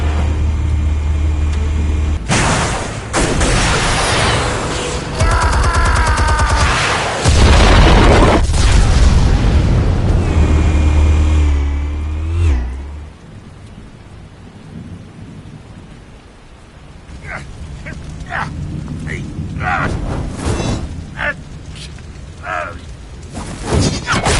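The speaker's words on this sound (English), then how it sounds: "Explosives armed. Fire when ready." Explosives detonating in Batman: The Telltale Series, a series of loud booming blasts with heavy low rumble and crackling debris over the first half, then quieter scattered impacts and rumbling aftermath.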